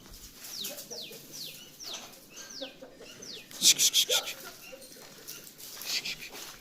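Chickens being fed on a farm, a string of clucks and bird calls with a short burst of louder squawking midway, fairly close, over a quiet outdoor background.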